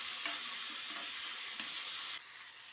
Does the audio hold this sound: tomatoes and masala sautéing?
yes